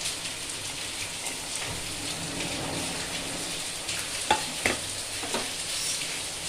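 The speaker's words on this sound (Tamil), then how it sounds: "அதில் போட்டு வறுத்துக்கிறேன்" Curry leaves and other ingredients frying in ghee in a pan, a steady close sizzle with a few sharper pops and stirring scrapes toward the end; no one speaks.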